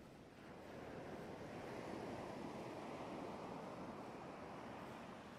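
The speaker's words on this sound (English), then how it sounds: "I like the calming sound. From the waves." Gentle ocean waves wash steadily in a Minecraft-style hardcore survival game, a soft, continuous surf with airy wind-like noise, faint and unbroken with no voices.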